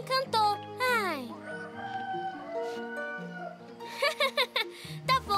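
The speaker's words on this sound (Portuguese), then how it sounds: "O galo despertador já cantou" A cartoon rooster alarm clock crows with a drawn-out, rising-then-falling call, playful music and other sounds mixed around it, ending with short bursts.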